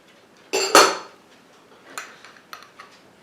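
Bowl of appetizer mix with chopped green onion, Worcestershire sauce, pepper and seasoning salt being stirred, giving two loud close scraping clinks of utensil on dish followed by a few lighter taps and scrapes.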